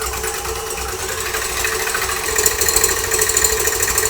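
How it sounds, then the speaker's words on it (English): An electric mixer whips separated egg whites at high speed for a flourless chocolate cake, a steady close motor whir with a buzzing rattle that grows slightly louder partway through, with no talking. "Once separated, into the mixer, high speed, let's go."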